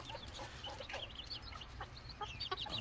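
Tiny Serama miniature chickens clucking softly, with scattered short chirpy clucks over a quiet low background hum.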